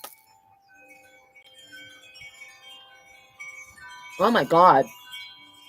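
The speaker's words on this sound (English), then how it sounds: "You hear the bells?" Soft, faint bell chimes ring out with thin sustained tones that fade gradually. A person briefly exclaims near the end.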